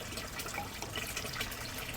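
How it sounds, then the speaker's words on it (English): Water flushes out of the topmost gutter of a cascading gutter bed, a faint steady rushing and splashing wash that carries on throughout with no voices. "The topmost gutter, when it's filled, it will flush. As you can see, now it's flushing."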